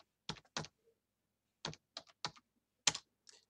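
A password is typed on a computer keyboard as a few isolated clusters of crisp, close key clicks, separated by silent pauses, with no talk.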